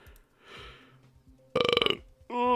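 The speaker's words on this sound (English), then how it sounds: "I've been burping so much." Two loud burps from a person, a longer pulsing one followed by a short rising one, close to the mic with faint murmuring before them.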